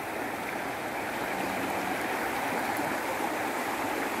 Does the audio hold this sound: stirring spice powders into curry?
no